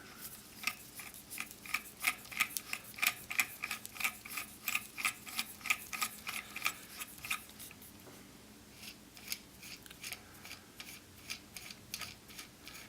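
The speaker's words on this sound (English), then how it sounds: "as we start threading down on the drive shaft, it is going to push out those baffles" A baffle removal tool's drive shaft threads into the back of a Dakota silencer, making a close, fast run of small metallic clicks and ratchet ticks. The clicks are steady at first, then break up and grow sparse.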